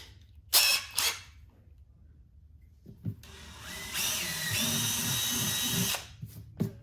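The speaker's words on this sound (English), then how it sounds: "So for this, I'm using a 5/32 drill bit." A power drill with a 5/32-inch bit whirs up and runs for a few seconds, its motor pitch shifting as it bores a hole during an audio kit install on a 2022+ BMW K16 motorcycle, with clicks and handling knocks before and after.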